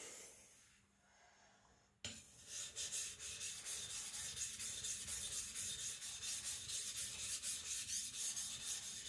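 A Sakon Ryuga gyuto knife is stroked across a Naniwa Professional whetstone, a faint pause and then steady rhythmic rasping rubs, close and even, back and forth with no talking.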